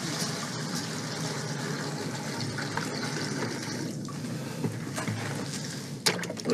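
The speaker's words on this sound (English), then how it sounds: "I'll take my 5-gallon bucket and dip over in here where I have got more sap, and I'll fill my warmer pan back up." Maple sap poured from a 5-gallon bucket into a warmer pan during home syrup making, a steady gushing, splashing pour running continuously at moderate loudness, with a brief knock near the end.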